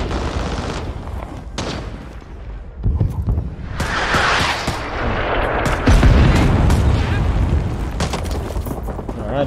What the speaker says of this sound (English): just fucking grenade launcher.